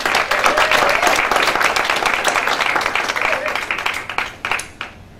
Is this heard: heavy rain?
no